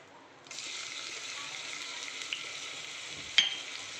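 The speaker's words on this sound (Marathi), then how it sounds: "आता या तेलामध्ये मी अद्रक लसूण पेस्ट टाकून घेतो." Ginger garlic paste drops into hot oil in a pan and starts a sudden, steady sizzle that keeps going evenly, close and fairly quiet, with a brief clink of a utensil near the end and no speech.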